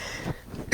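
A single short cough from a tickle in the throat, close and fairly loud, with a brief sharp burst at the very end.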